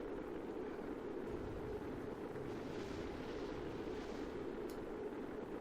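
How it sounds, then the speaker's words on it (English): Explosions in Kerbal Space Program rumble as a steady, dense low roar, a continuous thundering wash with no distinct separate blasts, moderately loud and without talk. "There is lots of explosions happening back here."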